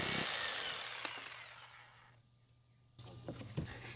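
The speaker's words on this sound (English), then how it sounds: "use a keyhole or saber saw to cut around the outline" A power saber saw cutting an outline into a wall for an outdoor GFCI outlet box, a loud buzzing rasp that fades, pauses briefly, then starts again with rattling strokes.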